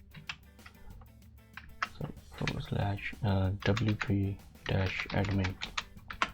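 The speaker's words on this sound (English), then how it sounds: "type in your URL" Keys tapped on a computer keyboard while a web address for a WordPress login page is entered, a quick run of light clicks mixed in with someone talking close by.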